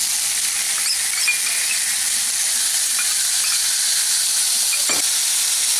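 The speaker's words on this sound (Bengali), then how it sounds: "কুমড়োটা আমাদের ভালোভাবে ভাজা হয়ে গেছে এখন আমি এর মধ্যে দিয়ে দেব দুই টেবিল চামচ তেঁতুলের পাল্প" Fried pumpkin sizzling loudly in a pan after tamarind pulp is added for chutney, a dense, steady hiss of frying with a few faint squeaks and one soft knock.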